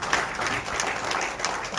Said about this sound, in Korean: 우리 박수 쳐주십시오.